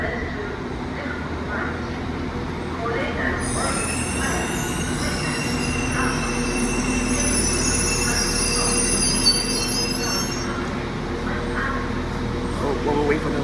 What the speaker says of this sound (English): the next train to pull in is a 195.